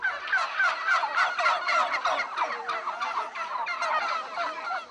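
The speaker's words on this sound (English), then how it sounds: "the plump India hen began its reign as master of poultry farms" A turkey gobbles in a rapid, rattling burst of calls that repeat continuously and fairly close, with no other sounds around it.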